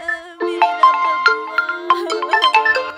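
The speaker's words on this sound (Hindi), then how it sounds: "तभी निर्मला का फोन बजता है" A mobile phone rings with a bright, melodic electronic tune of quick repeated notes, loud and close, with no talking.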